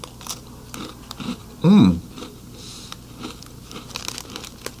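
Someone bites into Belvita breakfast crackers, giving one loud close crunch with crinkly bite sounds, then quieter chewing over faint background noise.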